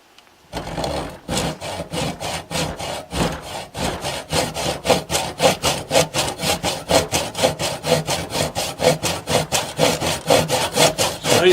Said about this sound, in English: Nice, this PVC cuts just like wood.